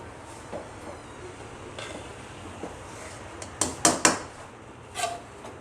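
Suji halwa stirred in a pan with a spoon, faint scrapes at first, then a cluster of louder metallic knocks and clinks toward the end over a constant kitchen hum.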